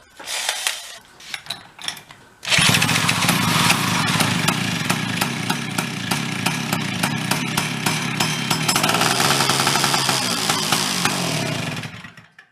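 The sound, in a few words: junked snow cycle engine being started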